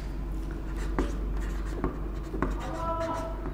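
Chalk or a marker writing on a board during a chemistry lesson, giving soft scratchy strokes and taps beneath a teacher's steady speech.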